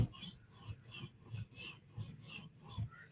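A Koenig knife edge drawn across a Hapstone sharpening stone in light finishing passes, giving about six soft, rhythmic rasping strokes, close and fairly quiet.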